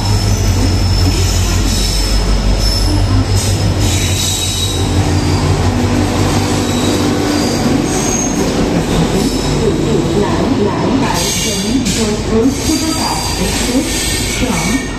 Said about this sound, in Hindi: Jodhpur Express from Delhi via to Jodhpur has arrived at platform number 5